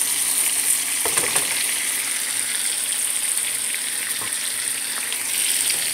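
Lamb chops and garlic sizzle steadily in a hot pan, a constant close fry with a few faint scrapes and taps of a utensil.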